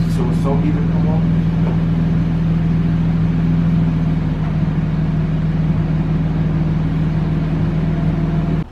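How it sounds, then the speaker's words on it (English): Infiniti G37 sedan engine idling steadily with a muffler delete, keeping the Y pipe and mid pipe, giving a continuous low droning exhaust rumble close by, with someone talking over it. "Don't sound bad with the muffler delete."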